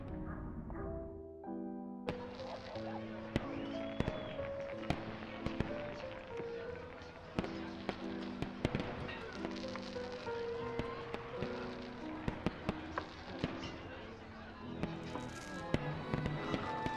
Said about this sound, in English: Oh, fireworks again.